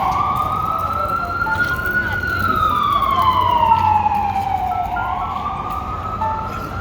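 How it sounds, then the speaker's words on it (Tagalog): An ambulance siren wails in long rising and falling sweeps, loud and near, over distant street traffic noise. "Pasensya na, maingay yung ambulansya."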